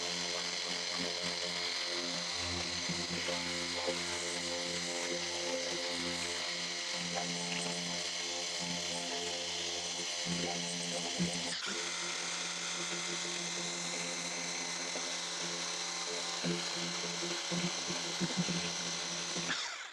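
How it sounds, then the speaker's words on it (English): Steady electric whine and hum of a Worx Hydroshot 56 bar cordless pressure washer spraying, running continuously and fairly close with a brief interruption midway. "as good as that Worx Hydroshot is, it doesn't move it that well"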